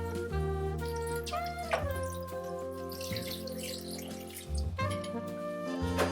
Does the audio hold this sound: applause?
no